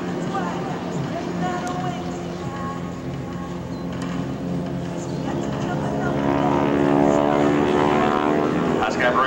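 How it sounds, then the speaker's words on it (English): An SNJ propeller airplane flies aerobatic rolls at an airshow, its engine droning steadily and swelling louder toward the end, while an announcer talks over it. "When you take that aircraft, push the stick to one side or the other, they're going to roll the airplane."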